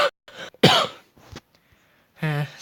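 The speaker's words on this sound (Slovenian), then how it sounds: "Oprostite, malo kašljam." Several dry coughs and a throat clear from one person close to the microphone, coming in short separate bursts with brief silent gaps between them.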